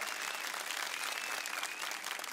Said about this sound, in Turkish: Bir yürekten bir alkış yollayalım.